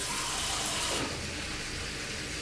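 Tap water running steadily into a pot for cooking a Bertolli frozen chicken dinner, a close continuous hiss that shifts slightly in tone partway through.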